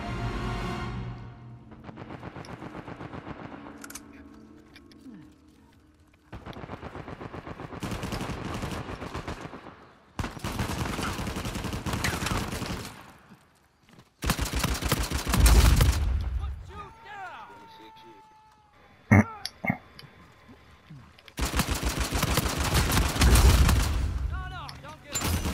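Bursts of automatic fire from a new gun in Uncharted 4 team deathmatch, loud rapid volleys separated by gaps, with other game effects and someone talking between and under the shooting.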